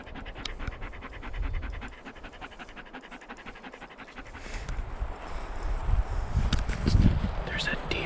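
A dog pants steadily and rhythmically while out on a grass hiking trail, the quick breaths continuing close to the microphone with light wind and outdoor rustle behind.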